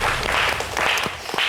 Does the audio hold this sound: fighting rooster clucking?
no